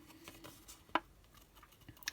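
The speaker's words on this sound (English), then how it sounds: "I find keeping my scissors in one direction and moving the paper around" Scissors fussy cutting paper for a handmade card produce faint, soft snips, one crisp cut standing out and another near the end, close and quiet.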